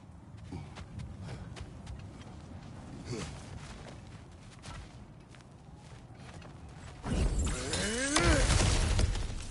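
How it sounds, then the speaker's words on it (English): Kratos smashes through cracked ground in God of War Ragnarok, a sudden loud crunching burst of breaking rock and debris near the end, after quieter footsteps and ambient game sounds with someone speaking. "back to smashing through things for fun and profit"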